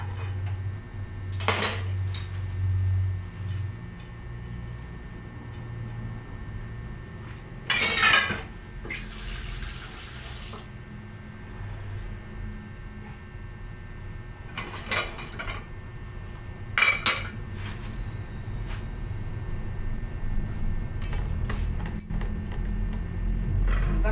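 Cutlery and pots clink and clatter in a sink during dishwashing at home, with bursts of running tap water and sharp scraping clatters standing out over a steady low hum.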